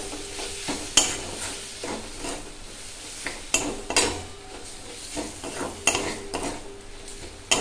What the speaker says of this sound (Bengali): এবার দিয়ে দিচ্ছি মাছগুলো। মাছগুলো দিয়ে ভালো করে